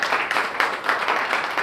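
A network marketing seminar audience claps steadily, a dense, continuous patter of many hands at moderate volume, with slight surges in intensity.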